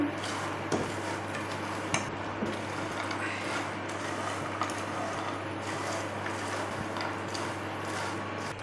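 Makhana (fox nuts) stirred with ghee in a pan make a steady, close rattling scrape that runs without a break, with faint clinks of the spoon against the metal and no voices.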